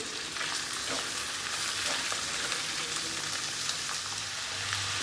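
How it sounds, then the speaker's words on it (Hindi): Chicken gizzards and browned onions fry in a pot, a dense, continuous sizzle with crackling and the scrape of a spoon stirring throughout, close and steady with no talking. "इसी तरह मिक्स करते रहेंगे तकरीबन 2 से 3 मिनट के बाद, जैसे ही पोटों का कलर चेंज हो जाए"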